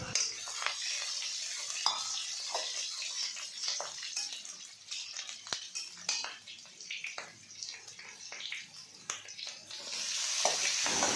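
Grated ginger and split green chillies fry in hot oil with five-spice seasoning for a hilsa fish head and taro leaf dish, a faint sizzle broken by scattered stirring clicks and scrapes of a utensil against the pan.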